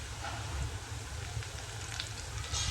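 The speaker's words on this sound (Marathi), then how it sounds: "कढीपत्ता टाकणार आहोत" Curry leaves dropped into hot oil while making a spicy okra stir-fry (bhendi bhaji), giving a steady, loud, crackling sizzle that holds evenly throughout with no voices.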